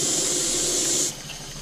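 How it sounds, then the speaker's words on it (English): Water and steam rush out through a valve on a Stuart 501 model steam boiler, a loud steady hiss with a watery gush that drops suddenly in level to a softer continuing flow. "This is why you sometimes have to release some water and steam through this valve"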